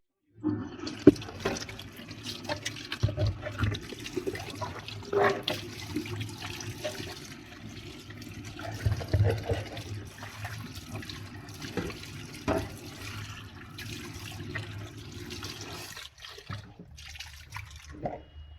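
Tap water runs and splashes as a kitchen mixing cup and its lid are rinsed, a steady rushing flow with irregular splashes and clatters, fairly close, without speech.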